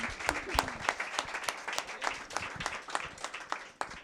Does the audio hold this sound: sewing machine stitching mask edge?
no